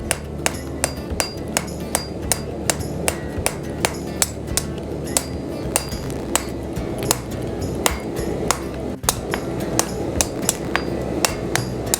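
Steel hammer blows on a blacksmith's anvil as a bar of coil spring steel is straightened, a steady fast rhythm of sharp ringing strikes, roughly two per second, loud and close with no talking.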